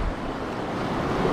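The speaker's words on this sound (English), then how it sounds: "Gotta be careful with the waves coming in." Sea waves break and wash on a shore at night during bass fishing, a steady rushing surf noise with some wind, no talk.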